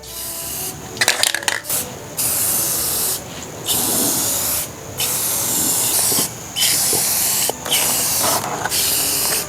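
Clear coat is sprayed from an aerosol can onto a motorcycle helmet, giving a series of loud, close hissing bursts, each one to two seconds long, separated by short pauses, with a few light clicks near the start.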